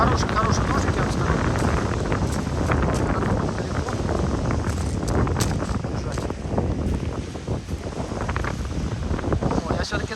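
Strong gusting wind buffets the microphone on a seashore, a loud continuous roar running through the whole clip while a voice talks faintly underneath.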